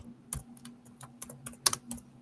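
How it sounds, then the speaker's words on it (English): Computer keyboard typing picked up by an open microphone during an online class call, quick irregular clicks and taps close to the mic over a faint steady hum. "I can hear you typing away."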